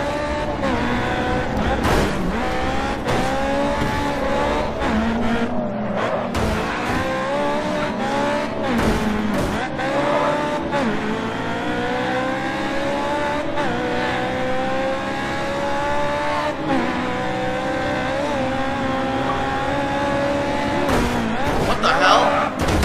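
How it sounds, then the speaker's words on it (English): Race car drifting in the GRID 2 video game, with a loud, steady engine roar and sustained tire squeal through the turn, shifting pitch as it slides, while a player talks over it. "It was already fucking drifting."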